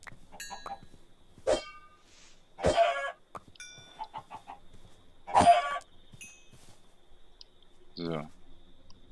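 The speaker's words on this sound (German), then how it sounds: "Ah, endlich Hühner, hey." Chickens in the Minecraft Pixelmon mod give short clucks and clicks between louder bursts, while someone talks over them in German.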